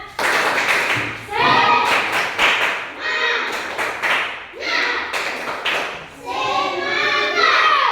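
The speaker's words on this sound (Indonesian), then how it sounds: "Kita tepuk semangat dulu. Ayo, tepuk semangat." Elementary school classroom doing a rhythmic clap-and-chant cheer: several bursts of patterned clapping from a group of children, each mixed with their voices chanting along, separated by brief pauses.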